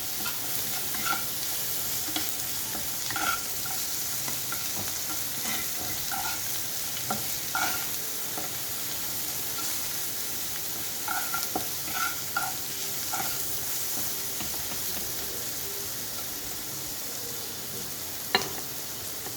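Garlic paste fries in a pan while being stirred, a steady soft sizzle broken by repeated scraping strokes of a utensil, close and moderately quiet with no talk.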